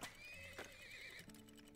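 Horses in the oil-drilling video game Turmoil give a short, clear whinny with a few clip-clop hoofbeats, heard close and alone.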